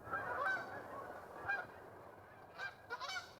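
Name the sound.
geese honking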